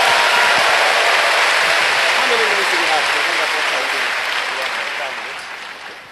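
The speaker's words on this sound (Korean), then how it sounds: "Give Jesus a mighty shout and clap." A large church congregation at a Friday night conference service bursts into loud shouting and clapping for Jesus, a dense roar with cheering voices that gradually fades toward the end.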